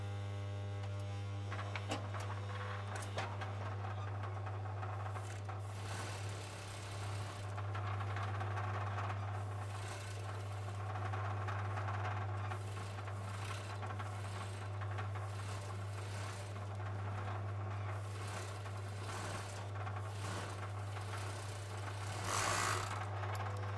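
Overlocker sewing the crotch seam of a pair of trousers, running steadily and fairly close over a strong low mains-like hum, with a continuous mechanical whirr and no talking.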